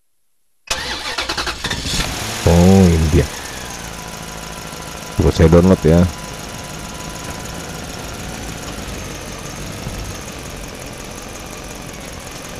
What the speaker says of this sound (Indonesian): Truk parkir ya.